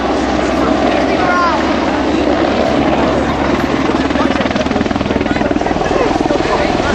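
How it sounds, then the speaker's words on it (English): An EH101 Merlin helicopter makes a maximum-rate takeoff and transitions away, its loud, steady rotor and turbine roar filling the air continuously throughout. "Up goes the Merlin, transitions away in a max rate takeoff into another wing over."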